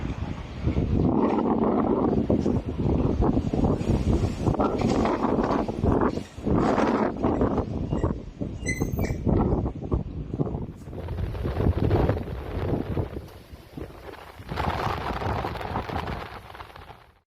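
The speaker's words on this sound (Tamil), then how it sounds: "கோத்தகிரி, அவலாஞ்சி, நடுவட்டம் மற்றும் சுற்றுவட்டார பகுதிகளில் பலத்த காற்று வீசி வருகின்றது." Strong wind buffets the microphone outdoors in the hill country around Kotagiri and Avalanche, loud roaring gusts that surge and ease in waves throughout, with rumbling low buffeting and no speech.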